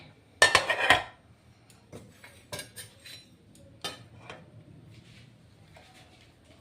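Rice served onto a plate: a scraping rush of a ladle against metal, followed by scattered light clinks and taps of the serving spoon on the plate.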